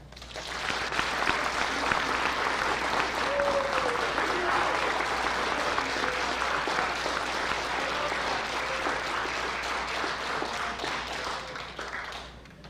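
An audience applauds new Honor Society members at a school ceremony, steady and full-bodied clapping that carries on for about twelve seconds before fading at the end.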